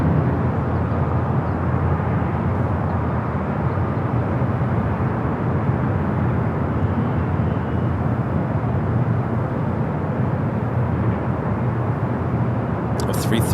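At LAX, a Lufthansa Airbus A350 taxis and turns, giving off a steady, loud jet-engine roar that holds unbroken from start to end.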